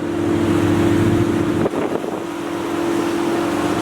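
A tour boat engine hums steadily under rushing wind and water noise from whirlpools around the boat in the Thousand Islands, close and loud, with a brief thump midway.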